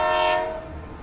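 A loud, sustained train horn in the video game Marvel Super Heroes blares briefly and then fades, over a low rumbling background.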